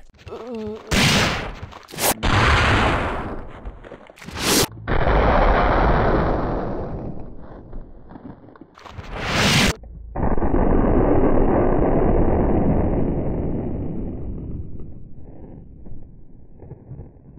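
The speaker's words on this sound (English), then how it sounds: "we gotta test this on a standard zombie and show the explosive headshot in amazing optimal slow motion" A Magnum revolver fires at a standard zombie in Resident Evil 3: Nemesis, with a few loud, booming shots and explosive bursts separated by silences, then a long sustained rumble that slowly fades.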